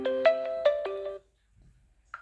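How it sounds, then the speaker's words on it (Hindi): A mobile phone rings with an incoming call, a bright electronic melodic tune of several quick repeated notes for about a second, close and clear, then silence and a short faint beep, heard during a Class 10 maths lesson. "एक सेकंड, फोन आया।"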